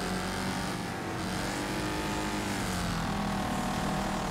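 Cars racing in Wreckfest, a dense, steady roar of several engines droning close together, with pitch sweeping slightly as they accelerate, no talking.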